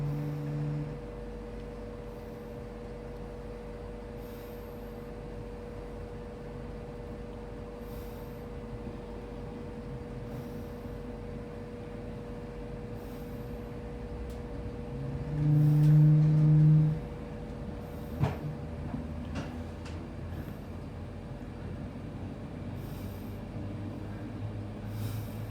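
An LNER InterCity 225 Mark 4 train runs at speed between Stevenage and London King's Cross, pushed by the rear power car: a steady low rumble and hum inside the carriage with a brief louder swell midway.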